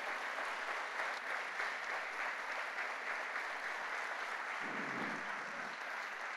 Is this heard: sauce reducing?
no